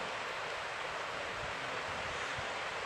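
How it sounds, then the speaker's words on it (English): A waterfall by a country road near Dorrigo in Australia makes a steady, broad roar of rushing water, fairly loud and continuous, with no voices over it. "The waterfall, you can hear it."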